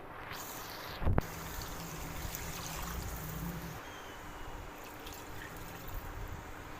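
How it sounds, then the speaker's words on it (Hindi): Two glasses of water poured into a Shinwari beef karahi with softened tomatoes: a short clunk, then a steady rushing pour for several seconds, close and moderately loud. "अब इस स्टेज पे हम शामिल करेंगे 2 गिलास पानी।"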